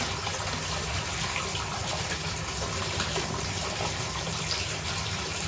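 Brass cartridge cases being rinsed under running water after wet tumbling, a steady gushing, splashing flow that stays loud and continuous throughout with no voices.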